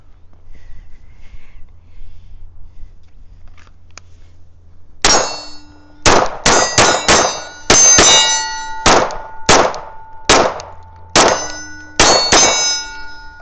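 Rapid strings of Kimber 2K11 Pro Comp pistol shots ringing off steel targets at an IDPA match, sharp loud cracks each followed by a metallic clang, in quick bursts after a quiet start.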